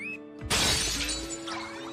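An object breaking apart with a sudden loud shatter in an anime scene, the crash bursting in abruptly over a faint tonal background and fading into a softer ringing tail.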